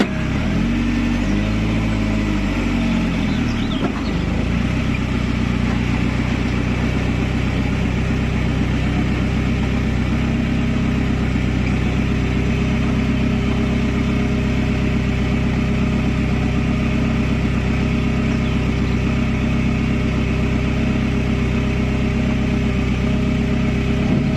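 A 1968 Commer turbo van drives along, likely on flooded roads, its engine giving a steady, loud, close drone that holds almost unchanged for the whole stretch, with a brief shifting sweep early on and no talk.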